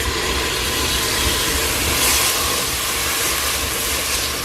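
Sofrito hits a hot pot of pollo en fricasé, Puerto Rican home cooking, giving a steady, loud sizzling hiss that holds evenly throughout without talk.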